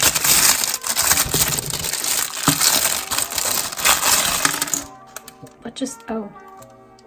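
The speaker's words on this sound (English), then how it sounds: "The tab broke off, and I didn't even open it yet." Crackling plastic from a slime palette kit being handled, ending in a brittle snap as a plastic tab breaks off. A person speaks briefly afterward.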